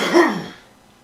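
A single short cough, fairly close and clear, quickly fading into quiet.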